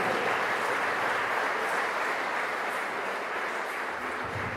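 Audience applause at an art exhibition opening in Iasi's Palace of Culture, a steady, dense clapping that holds evenly throughout without voices on top.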